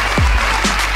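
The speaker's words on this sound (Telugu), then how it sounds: "వీళ్ళకి గట్టిగా చప్పట్లు కొట్టండి." A studio audience claps at a Telugu TV game show, giving a short burst of applause mixed with sweeping electronic sound effects.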